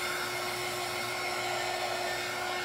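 Hair dryer blowing over freshly painted craft decor for a tiered tray, a steady, loud, unbroken whoosh with a constant hum running the whole time and no voices.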